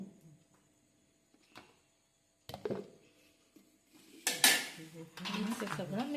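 Banana flower curry ingredients with coconut being mixed in a pot, quiet and sparse at first, then metal spoon clanks and scraping against the pot growing louder and more continuous toward the end.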